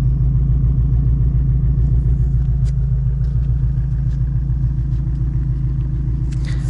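A Lada Priora with a dual exhaust idles close by, giving a loud, steady, low throbbing rumble with an even pulsing beat that holds unchanged throughout, with no talk over it.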